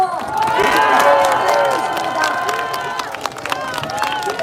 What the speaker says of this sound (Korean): 김종인 위원장님께 여러분들 큰 박수와 함성 한번 보내드려 주십시오